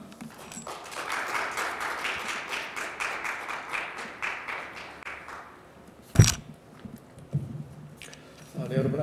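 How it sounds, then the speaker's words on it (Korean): An audience at an advisory council training session claps to welcome a speaker, a moderate burst of applause that thins out and stops partway through, followed by a few isolated knocks and handling noises. "박종철 연구원님을 큰 박수로 맞아주시길 부탁드리겠습니다."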